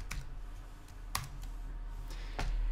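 A short run of typing on a computer keyboard, a few crisp key clicks spaced apart over a low steady hum, close and fairly quiet.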